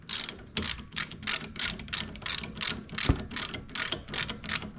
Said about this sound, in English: This nut's a 17 millimeter. Now we'll just tighten it down.